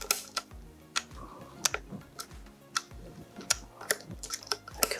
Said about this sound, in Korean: 이렇게 돌려서 여기를 누르면 필름 들어가는 소리예요